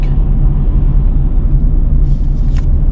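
Road traffic heard from inside a moving car, a loud continuous low rumble of engine and tyre noise with faint passing sounds near the end.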